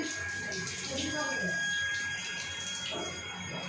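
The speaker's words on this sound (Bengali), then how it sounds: "উপর দিকে দেখো খুব ভালো লাগছে বৃষ্টির জলে স্নান করছে মামুন" Rainwater splashes and runs over someone bathing outdoors, a steady close wash of falling water with people talking over it.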